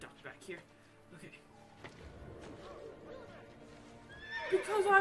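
A horse whinnies loudly near the end in the video game Assassin's Creed Brotherhood, over a quieter background of soft clip-clopping hooves, scattered knocks and faint talking.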